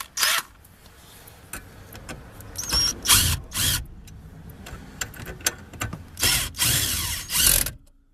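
A power drill on a 2012 Colorado center armrest base plate whirs in repeated short bursts, close and loud, with clicks and mechanical rattling between runs and no talking.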